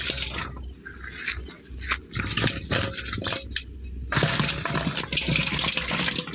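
Freshly caught fish such as magur, shol and koi, taken from a home pond, thrash and splash in a pot of water, giving close, uneven sloshing bursts that grow steadier and louder toward the end, with no one speaking.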